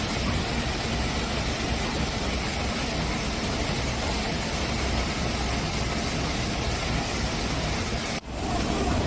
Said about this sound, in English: This process is done by a silage baler and wrapper to compress and preserve the livestock feed